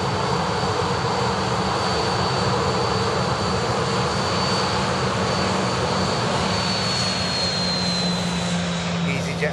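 A TUI airliner taxis fast with a steady, loud engine roar and a high whine, holding constant throughout at close range.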